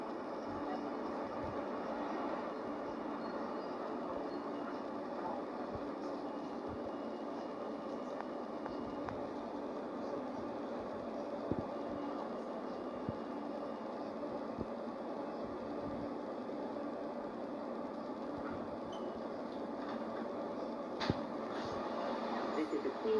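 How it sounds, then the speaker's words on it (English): A Queens-bound New York subway F train runs on the E line, a steady rumbling roar of wheels and car noise with occasional clacks, continuous and moderately loud. "This is a Queens-bound F train via the E line."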